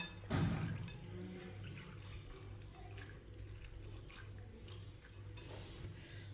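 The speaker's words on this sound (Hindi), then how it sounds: "अब इसे 2-3 बार पानी में अच्छी तरह वॉश कर लेंगे।" Soaked chana dal is washed by hand in a bowl of water, with a splashy swish near the start, then quiet sloshing and occasional small drips and squishes, close and fairly soft.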